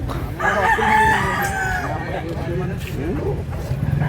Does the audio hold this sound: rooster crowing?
yes